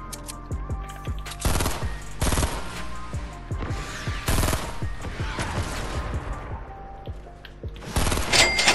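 Rapid bursts of automatic gunfire from the Fortnite Battle Royale video game, loud and close, with repeated volleys and sharp shots spread across the whole stretch and no talking.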